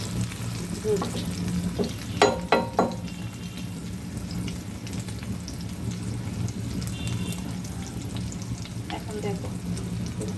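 Eggs sizzle steadily in a hot pan, with a few sharp clinks of a utensil scraping and stirring early on.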